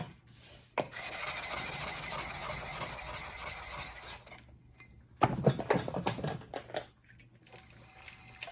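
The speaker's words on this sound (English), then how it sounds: "The first thing we got to do is make sure our stones are flat." Sharpening stones are rubbed flat for chisel honing, a long steady gritty scraping that stops, then returns as shorter rasping strokes, close and without talk.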